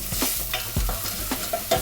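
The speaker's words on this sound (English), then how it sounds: "So all the spices are roasting and it smells amazing in this kitchen right now" Whole spices with garlic and ginger roast and sizzle in a hot pan for a Sri Lankan mutton curry, with a steady fry and a few scrapes of stirring, close and alone.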